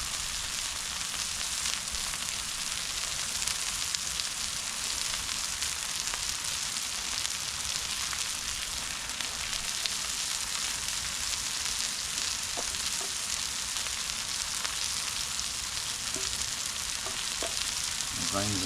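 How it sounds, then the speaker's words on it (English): Chopped onions fry on a Blackstone flat-top griddle for smothered and covered hash browns, giving a steady, close, continuous sizzle with faint scraping and occasional small pops, no voices. "Give our onions a chance to get nice and caramelized"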